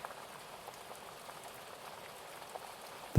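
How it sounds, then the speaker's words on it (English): A stream bubbling along its bank, a soft steady wash of trickling water with faint scattered droplets, continuous and fairly quiet, ending in a brief louder thump. "The sound of the stream bubbling along the bank,"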